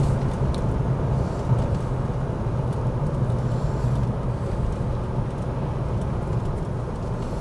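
A manual BMW 635CSi cruises in third gear, a steady low engine drone mixed with road and cabin rumble, even and continuous throughout with no voices.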